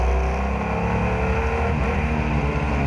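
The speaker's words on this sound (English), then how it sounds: "You can hear the engine thrumming away in front" A 1948 Alvis Goodwin Special with a six-cylinder engine runs at a hillclimb, giving a loud, continuous throaty thrum that holds steady throughout.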